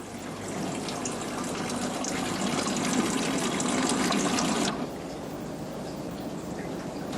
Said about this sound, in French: dans un vase, on récupère l'eau chargée d'essence